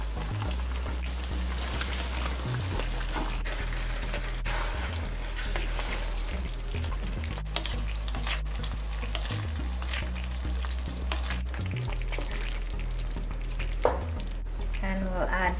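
Chicken pieces fry and get stirred into a butter chicken sauce, a steady close sizzle with scraping, clattering stirs and occasional sharp knocks of the utensil against the pan.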